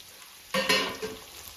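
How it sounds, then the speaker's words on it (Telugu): Brief sizzling scrape as drumsticks are stirred in a hot pan for a drumstick tomato curry, a soft burst of frying crackle that rises suddenly and fades within a second. "సో మధ్య మధ్యలో ఇట్లా కలుపుకుంటూ ఉండండి."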